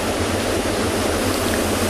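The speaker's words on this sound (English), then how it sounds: "in the background, you can hear the waterfalls of this river rolling down from the rocks" River waterfalls rolling down rocks on an African safari reserve, a loud, steady rushing roar of water filling the scene without pause.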